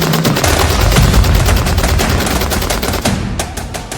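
Dense, continuous automatic gunfire from fighters in Gaza, loud and rapid with overlapping bursts that thin toward the end, with no speech.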